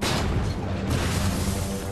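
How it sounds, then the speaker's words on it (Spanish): An 88 mm artillery gun fires with a deep, booming blast, close and loud, its rumble rolling on through the rest of the moment. "El 88 de repente abre fuego."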